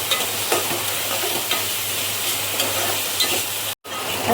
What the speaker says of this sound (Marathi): आता आपला टॅमॅटो पण चांगला फ्राय झालाय.